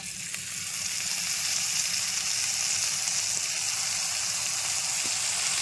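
Ginger paste sizzles and fries steadily in a hot pan, a soft continuous crackle with a few faint clicks, close by and fairly quiet, no voices.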